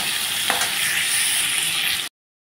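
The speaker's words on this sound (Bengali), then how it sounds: "আমি ফুলকপি আর আলু আমি একটু হালকা করে ভেজে নেব।" Cauliflower and potato lightly frying with a pinch of turmeric and salt, a steady broadband hiss of oil sizzle running close and continuous, with a brief stir clatter midway before it cuts off.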